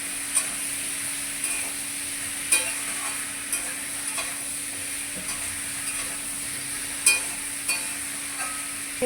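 Food frying in a pan with salt is stirred, giving a steady background sizzle broken by irregular scraping clicks of the utensil against the pan, fairly quiet and close with no talking.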